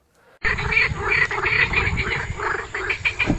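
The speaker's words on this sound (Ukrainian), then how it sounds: "звичайні жаби. Їхні весільні пісні чути навіть у сусідній Угорщині." A loud chorus of common frogs croaks continuously on the Tisza, many overlapping rattling calls close by with no talking.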